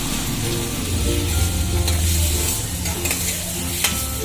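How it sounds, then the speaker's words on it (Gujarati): A spoon stirs raw mango vagariyu with salt and turmeric in a hot pan, giving a continuous close sizzle with scraping and clinking strokes of the utensil, alone without talk. "પછી ચલાવી લઈશું."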